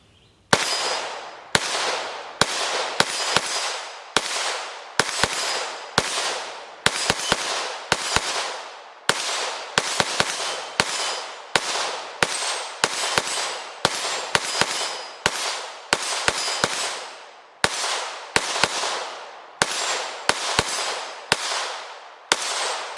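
A P90 fires 5.7x28mm 40gr FMJ rounds through an AAC suppressor in a long string of sharp, evenly spaced cracks, each ringing out briefly before the next, with short pauses between groups of shots.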